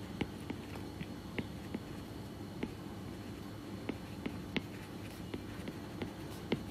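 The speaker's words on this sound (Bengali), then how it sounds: "তাহলে আমরা এখানে লিখি" Marker or chalk taps and scratches on a board while a diode circuit problem is worked out, light irregular clicks over a steady low room hum, close and faint.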